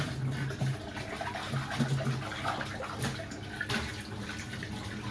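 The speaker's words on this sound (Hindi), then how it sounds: "वो आलू वाला जो फ्राई पैन था, मैंने सोचा इसे ही धो के इसी में चाय चढ़ा देता हूँ" Running tap water splashes steadily over a frying pan being washed in a kitchen sink, a continuous close, moderately loud rush with small clattering bumps of the pan, no talking.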